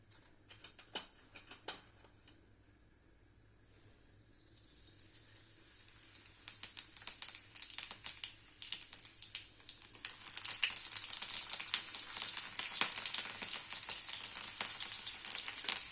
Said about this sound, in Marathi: आता तेल तापलं की त्यात जिरं आणि लसूण टाकूया